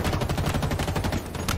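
Rapid bursts of battle rifle fire in the Halo Infinite video game, a dense, steady rattle of repeated shots filling the whole moment, loud and close with no talk over it.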